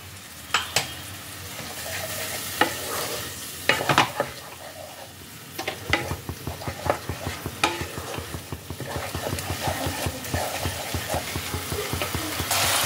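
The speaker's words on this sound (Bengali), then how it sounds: "এই পেস্টের সাথে ভালো করে প্রথমে মিশিয়ে নেব" Masala paste for dhaba-style matar paneer stirred in a hot pan, sizzling steadily while a spoon scrapes and clacks against the metal in quick repeated strokes, growing busier and more rhythmic toward the end.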